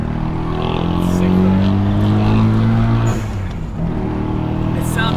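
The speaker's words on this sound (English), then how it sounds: "It sounds so good when the off valve just hits." Mazda FD RX7 rotary engine with a blow-off valve, driven on a Sydney touge road, a loud close engine drone with a falling pitch after a shift and a brief hiss, under people talking.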